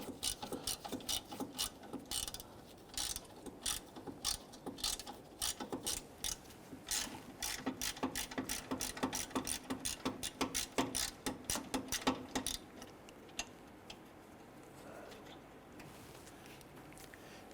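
A ratchet turning a 10mm socket to remove a bolt holding the switching valve solenoid on the underside of a 2012-2017 Toyota Camry, sounding as a close, fast run of sharp clicks in bursts that slow to scattered single clicks near the end.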